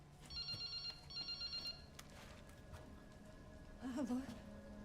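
Telephone ringing in the video game Resident Evil Requiem, two quiet electronic trilling bursts in quick succession, then a voice briefly speaking over low ambient noise.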